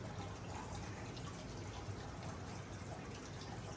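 Steady water trickling and splashing through pond plumbing with a constant low rumble beneath, continuous and fairly close, no talking.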